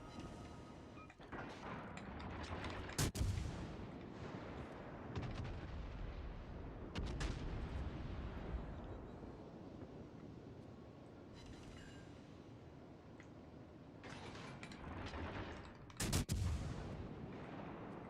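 Warship main batteries firing in World of Warships Legends, with several heavy booming salvos spaced several seconds apart, each dying into a long rumbling tail over continuous low engine and sea noise.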